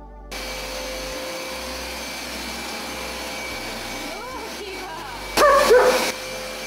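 A carpet cleaning machine runs steadily over stained carpet in a home, a loud continuous drone through most of the clip, with a dog barking and whimpering intermittently near the end and brief voices.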